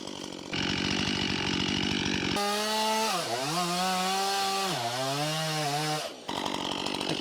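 A chainsaw cuts into a dead, dangerous tree: the engine roars at full throttle, its pitch sagging and recovering as the chain bites the wood, then drops back to a rough idle.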